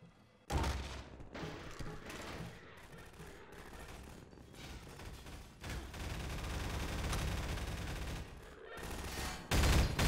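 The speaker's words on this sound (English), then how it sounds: "It's pulse rifle time." Pulse rifle fire in a video game comes in loud, sustained rapid bursts, with brief pauses and a sharp final volley.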